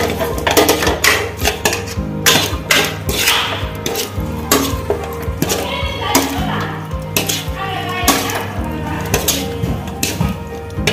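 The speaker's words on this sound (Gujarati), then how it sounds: "વિનેગર એડ કર્યા બાદ તેને મિક્સ કરી લઈએ." Paneer chilli being stirred with vinegar in a metal pan: repeated sharp clanks and scrapes of a spoon against the pan in an uneven rhythm, close and loud over a faint sizzle.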